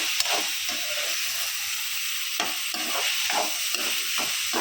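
Ingredients are stirred together in a hot pan and sizzle with a loud, continuous hiss. Repeated soft scraping strokes of the stirring run through it.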